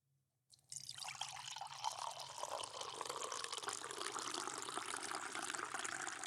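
Liquid pours steadily into a container, starting abruptly after a brief silence and continuing as a loud, bright, continuous splashing stream with no talk over it.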